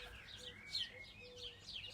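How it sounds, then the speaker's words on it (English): Doves calling in a garden, their soft calls blended with brighter chirping from other small birds, fairly faint and intermittent over quiet outdoor background. "Doves are calling."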